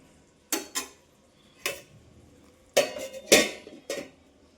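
A metal lid is set on a cooking pot of spice paste on the stove, giving about six sharp, close clinks and clatters spread irregularly over a few seconds, with no talking.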